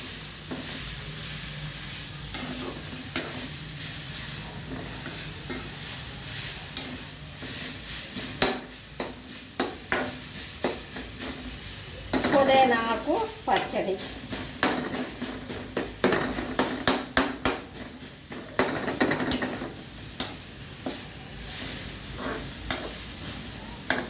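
Mint chutney ingredients cook slowly in a pan over a low stove flame, giving a soft, steady sizzle with frequent stirring scrapes and clinks of a spoon against the pan.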